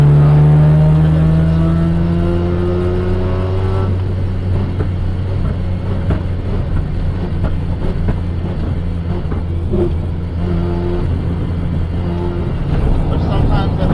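A Mazda RX8 rotary engine revs hard and holds a loud, close, sustained high-rpm drone, with dense crackling pops breaking through from a few seconds in until the end.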